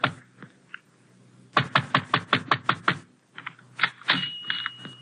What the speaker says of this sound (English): but I pound on the door.